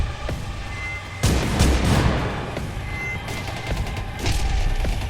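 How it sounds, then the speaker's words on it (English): Gunfire in the video game Penumbra as operatives shoot at a rockworm: dense, chaotic bursts of shots and booms, loudest in two clusters, over a rumbling background. "A chaotic fight ensues, as the operatives fire at it without effect."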